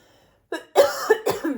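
A short burst of harsh coughs, three or four close together, fairly near and moderately loud.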